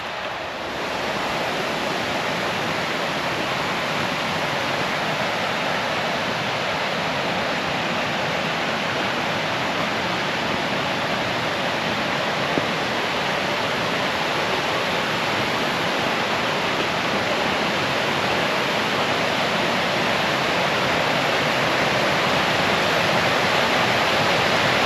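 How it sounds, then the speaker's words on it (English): Troll Waterfall in the Norwegian wilderness pours as a steady, loud, broadband roar of rushing water, constant and close throughout with no voices. "so we are at the Troll Waterfall"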